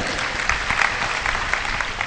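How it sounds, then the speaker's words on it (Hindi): A rally crowd in Balaghat claps loudly during the Atal Jyoti Abhiyan event, a close, dense burst of applause with a few sharper claps standing out, no voices on top. "इस बात पे जोरदार तालियां बजाइएगा"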